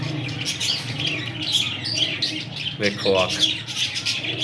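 Qasori breed pigeons coo and flutter close by, a soft, busy mix of low calls and brief squawks, while someone talks over them.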